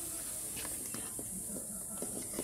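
Steam hisses in a steady, high-pitched stream as the lid of a pot of boiling eggs is lifted, soft and close, with a few faint clicks and knocks underneath.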